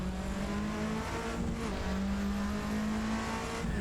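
A Ford Sierra Cosworth RS500 races in Assetto Corsa, its engine holding a steady, sustained drone with slight pitch shifts as it revs, continuous and fairly close, with no talk.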